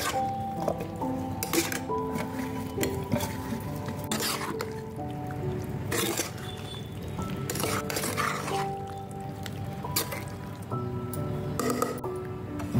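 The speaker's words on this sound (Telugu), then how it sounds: "చివరగా రెడీగా ఉన్న ఉసిరికాయలు కలపాలి." Amla pickle with tamarind pulp and spice masala is mixed by hand, giving soft, wet squishing and occasional clinks of a container, close and quiet, continuous for the whole stretch without speech.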